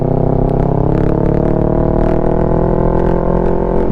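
A Kawasaki Ninja 650 fitted with a Mivv full-system exhaust rides along, its engine droning loud and steady with a dense, continuous rumble.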